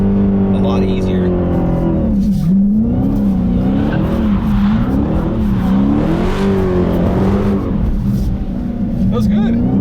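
A Dodge Challenger Hellcat drifts, its engine howling with rising and falling revs as the throttle is worked through one continuous slide, loud and close, with tire noise underneath and a voice talking over it.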